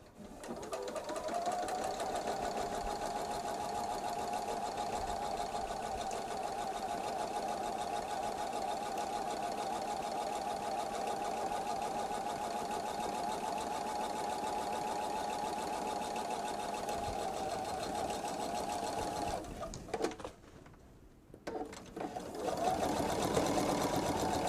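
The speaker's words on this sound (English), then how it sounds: "we're going to do the same thing, stitch in the ditch here" A sewing machine stitches in the ditch on a quilted bag made from jelly roll fabric strips. It whirs in a steady, continuous run for about twenty seconds, stops briefly, then starts up again.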